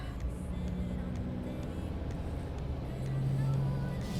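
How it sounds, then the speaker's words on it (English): Cars crawling in a traffic jam give a faint, steady low rumble of idling engines, with a brief tonal hum rising near the end. "I've been stuck in this traffic for about 20 minutes"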